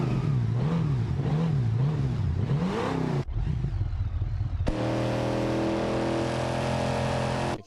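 A car engine in the BeamNG driving game revs and drones loudly, its pitch rising and falling in a wavering cycle, then cuts briefly before settling into a steady high idle hum.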